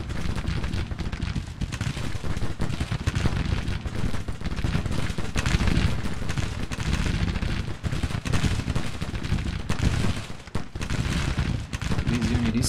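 Dense, continuous musket volleys from skirmishers in the Civil War strategy game Grand Tactician, a loud crackling barrage of overlapping gunshots that barely lets up.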